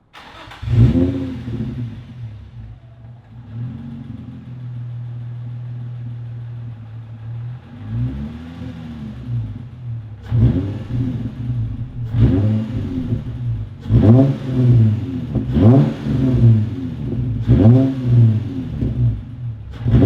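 A Nissan 350Z with a muffler delete and a custom welded pipe to dual tips, its engine clicky and later blown, revs up repeatedly from a low idle in loud, close bursts.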